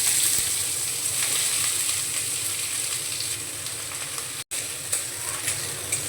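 Sliced bitter gourd frying in hot mustard oil gives a steady, loud, broad sizzle that holds throughout, with one abrupt momentary cut near the end before the hiss resumes.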